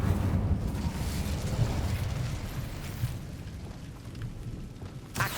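Incendio fire spell from Hogwarts Legacy setting objects alight: a steady, low roaring crackle of flames that holds for several seconds, followed by a brief brighter burst near the end.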